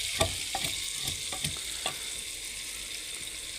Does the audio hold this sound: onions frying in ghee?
yes